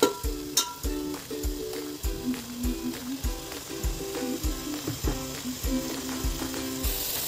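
Rice mixed with biryani masala is stirred in a frying pan for chicken biryani, making a steady, rhythmic scraping about twice a second over a soft sizzle, close and moderately loud, with no voices.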